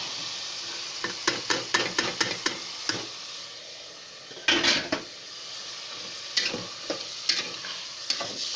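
Food frying in a pan while being stirred: quick metallic clicks and scrapes of a spoon against the pan come in bursts over a steady sizzle, with one louder, longer scrape partway through and no voices.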